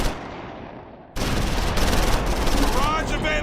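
A dense, loud stretch of rifle and machine-gun fire with mortar fire in Close Combat 4, a World War II Battle of the Bulge game set at Wiltz, beginning after a quieter lead-in and rolling on continuously.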